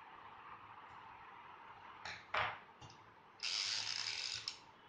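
A Rain Bird 5000 sprinkler rotor head being turned by hand gives faint ratcheting clicks, with short louder bursts of clicking and a longer stretch of ratcheting near the end over a quiet background.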